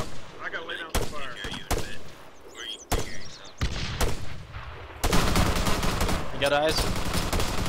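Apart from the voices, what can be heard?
gunfire in video game ArmA 3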